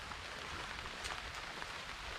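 Steady rain falls on a farm in Thailand, a soft continuous patter of drops that stays even and fairly faint throughout, with no voices.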